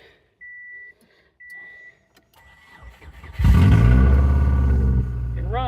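Subaru Forester with a manual clutch on a cold morning: a few faint beeps and clicks, then the engine cranks, catches loudly and settles into a steady, rough idle.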